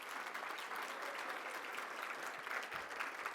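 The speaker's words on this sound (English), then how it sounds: "A round of applause for the 10 years." Conference audience at an LGBTQ+ leaders gathering claps in steady, dense applause that fills the hall for several seconds, a broad wash of many hands at even loudness from start to end.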